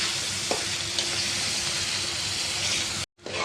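Ground masala paste frying in a hot pan for duck curry, a continuous sizzle with a few soft stirring scrapes, ending in an abrupt brief cut.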